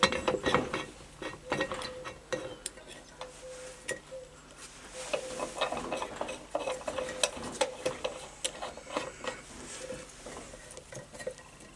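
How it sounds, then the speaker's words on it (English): Valve spring compressor working on a Reliant 850 cylinder head, a run of close metallic clicks, ticks and ratcheting scrapes in irregular bursts over a low background hum. "valve spring compressor."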